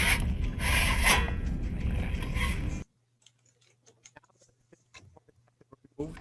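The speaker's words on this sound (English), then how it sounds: "simply slide the scallop off the rail assembly" A metal scallop slides off the rail assembly of a Corbin Russwin motorized latch retraction lock, a loud steady rubbing rasp that stops abruptly, followed by quiet faint clicks and small taps before a brief rub returns.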